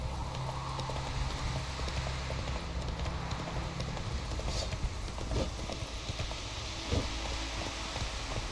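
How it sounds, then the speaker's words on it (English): Horse hooves clip-clop steadily at a walking pace in the game The Witcher 3, set against a constant wash of outdoor ambience, with a few louder hoof strikes and creaks near the end. "Whoa there, Roach"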